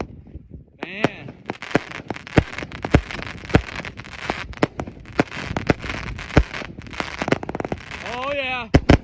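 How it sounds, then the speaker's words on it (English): A 100-shot firework cake fires rapid salute bursts, sharp loud cracks in quick irregular succession with crackling tails, while people react and talk between the reports. "Those rapid fire salutes were insane."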